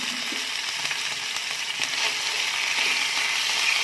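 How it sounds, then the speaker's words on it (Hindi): Chicken pieces and garlic paste fry in three tablespoons of hot oil in a pan, giving a loud, continuous crackling sizzle that grows slightly louder and denser toward the end. "अब उसमें चिकन ऐड कर दें और साथ में ही गार्लिक पेस्ट ऐड कर दें"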